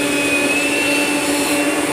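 Rainbow E2 black vacuum cleaner running loud and close while vacuuming carpet, a steady roaring motor with a sustained high whine throughout.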